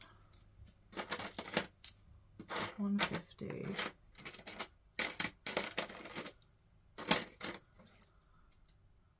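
Pound coins clink and drop in repeated bursts as cash is counted by hand, close and fairly loud, with a person speaking between the metallic rattles.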